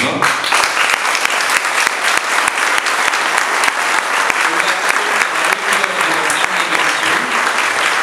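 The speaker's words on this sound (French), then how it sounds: "je vous demande un tonnerre d'applaudissements pour Sylvia Haro, Laurent Catala et Bruno Lanvin" Loud, dense applause from a large audience at an award ceremony, continuous and evenly sustained for the whole stretch with a faint crowd murmur mixed in.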